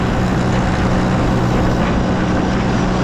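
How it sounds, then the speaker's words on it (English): Allis or Farmall tractor mowing with a 72-inch deck, a steady loud engine drone and blade whir droning continuously and close by with no pauses. "I mow with this tractor. It does an awesome job."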